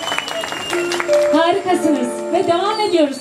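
Concert audience applause at an outdoor show in Samsun continues underneath as someone speaks loudly and clearly over it, the clapping fading into a steady wash behind his voice.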